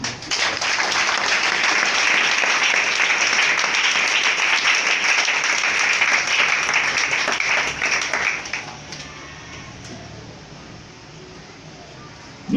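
A church congregation breaks into loud, sustained applause and clapping for about eight seconds, then fades to a quieter murmur of the room.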